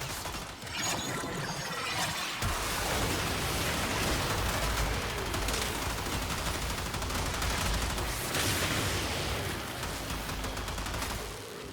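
The Synapse weapon in the Warframe video game fires a continuous, loud, crackling stream of rapid shots that barely lets up, hissing and rattling from start to finish.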